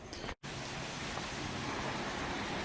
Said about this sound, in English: it's a little windy here today, guys, so there's some stuff knocking around.